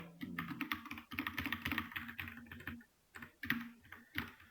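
Rapid, steady typing on a computer keyboard in a classroom, with close clattering keystrokes in bursts and a brief pause partway through.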